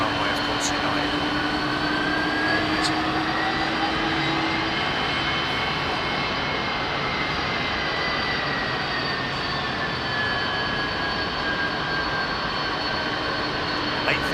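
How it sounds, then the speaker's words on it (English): A United airliner jet on approach to land on the left-hand runway, its steady engine roar droning continuously in the distance while people talk over it. "it's going to come in on the left-hand runway, of course, United."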